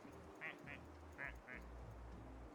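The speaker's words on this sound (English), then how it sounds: "We're just looking at ducks." Ducks in a video game quack in four short, bright calls, two close pairs, over a low hum, with no talk.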